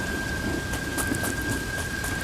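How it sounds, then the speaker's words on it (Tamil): Heavy rain pours steadily at night, a dense constant hiss with faint low rumbles that suggest thunder, and a thin steady tone running throughout. "ஒரு நாள் ராத்திரி ஊரே அதிருற அளவுக்கு பயங்கர மழை"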